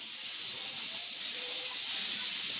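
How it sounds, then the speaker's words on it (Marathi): Steady hissing of steam escaping from a pressure cooker in a home kitchen, an even broadband rush that holds for the whole stretch with no talk over it. "तर कुकर फुटल रोहन त्या कुकरला काढून ठेव बाजूला"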